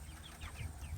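Chickens of mixed sizes cluck softly inside a chicken tractor, a few faint short calls over a low rumbling background, no talking.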